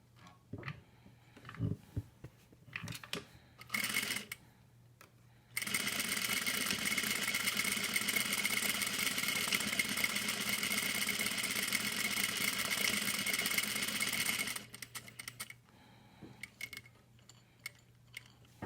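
A sewing machine stitches parallel lines in a steady fast run for about nine seconds, bracketed by short bursts of start-stop stitching and backstitching before and after.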